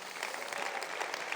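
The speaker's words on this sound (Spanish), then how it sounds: "Puedes darle un aplauso a Él." A church congregation applauds during a sermon, a short burst of steady, dense clapping that fills the room at moderate level with no speech over it.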